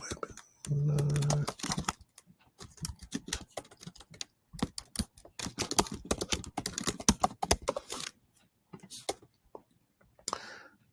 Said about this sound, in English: I'm going to click over here and retype it